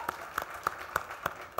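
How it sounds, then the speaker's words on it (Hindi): An audience on a comedy music show claps in a steady rhythm, about six crisp, evenly spaced claps rising clearly above a quiet background. "कंगना के लिए जोरदार ताली हो जाए।"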